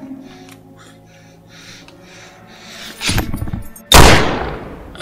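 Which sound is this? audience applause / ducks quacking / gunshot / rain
gunshot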